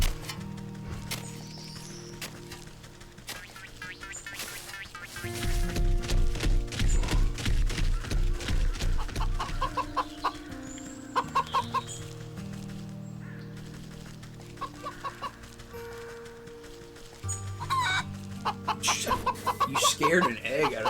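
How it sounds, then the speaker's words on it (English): Chickens clucking in the video game Wytchwood, repeated clucks and short fowl calls over a busy game soundtrack with other sound effects, with people talking throughout. "You scared an egg out of that chicken."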